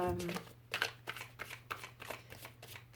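Tarot cards shuffled and laid out by hand, a quick series of soft riffling flicks and slaps repeating at a steady pace, close and fairly quiet over a low steady hum.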